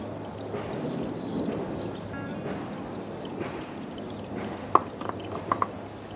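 Soft, steady trickling water from a backyard waterfall runs throughout, with a few sharper drips and splashes near the end.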